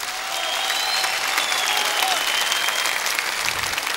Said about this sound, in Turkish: Hanım kızımıza alkışımızı alayım.